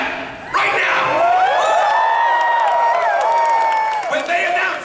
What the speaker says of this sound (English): you get to yell and cheer and do that right now!